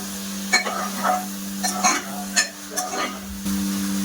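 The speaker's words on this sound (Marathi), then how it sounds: "सोयाबीनची वडी घालूया. वडी आपल्याला छान मसाल्यामध्ये परतवून घ्यायची आहे." Soybean chunks being stirred and sautéed in a spice masala in a pan, with a steady frying hiss underneath and several scraping stir strokes, close and moderately loud, without speech.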